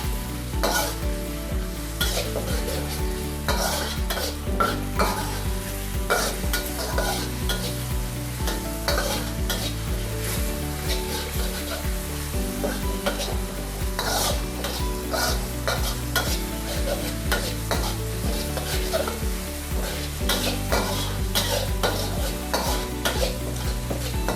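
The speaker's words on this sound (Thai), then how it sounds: "เดี๋ยวเราผัดให้พริกมีกลิ่นหอมฉุดก่อนค่ะ" Chili peppers and garlic stir-fried in hot oil in a pan, with a continuous crackling sizzle and repeated rhythmic scrapes and clinks of a utensil stirring against the pan.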